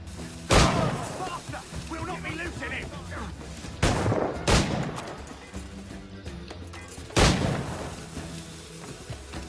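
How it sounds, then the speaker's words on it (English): Grenades blow up in Assassin's Creed IV Black Flag, four sharp, loud booms spaced a few seconds apart, with a rumbling, clattering fight and faint voices between them. "Them and their grenades."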